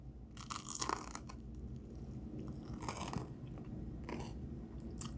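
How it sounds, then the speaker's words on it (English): Crunchy fresh bread topped with strawberry jelly and butter being bitten and chewed, a run of crisp crackling crunches close to the mic, fairly quiet and with no talk. "So now I get to enjoy a delicious bite of this fresh bread."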